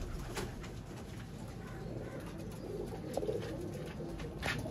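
Baby pigeons coo softly in a loft or cage, faint repeated low cooing and a few short clicks over a quiet hiss, close but gentle.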